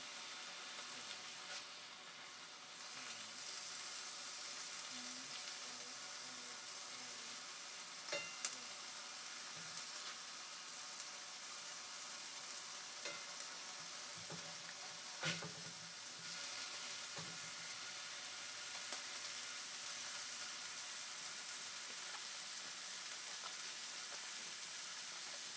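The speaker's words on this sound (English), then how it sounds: "I like to cook these up for a little bit of a browning on them" Food browning in a frying pan for eggs Benedict gives a steady, fairly quiet sizzle for the whole stretch, with a few small pops and clicks and no voices.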